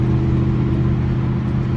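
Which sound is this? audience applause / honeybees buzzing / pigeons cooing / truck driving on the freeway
truck driving on the freeway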